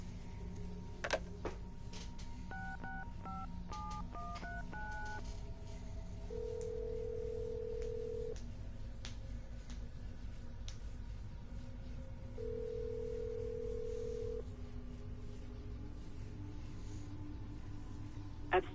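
Telephone dialing in Assassin's Creed Brotherhood: a quick run of stepped keypad tones near the start, then two long steady ring or dial tones separated by a gap, over a low ambient hum with no talk.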